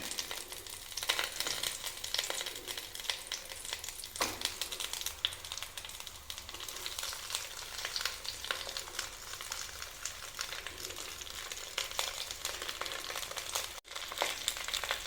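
Avoli (pomfret) fish frying in hot oil in a pan: a steady, dense crackling sizzle runs the whole time, close and fairly loud, with occasional sharper pops and no talking.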